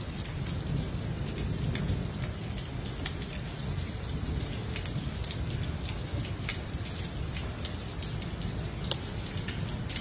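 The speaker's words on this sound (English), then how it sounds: "gloomy, rainy day." Steady rain pours in the New Orleans French Quarter on a gray day, a dense continuous hiss of drops spattering hard surfaces with occasional sharper drips, loud and close throughout with no voices.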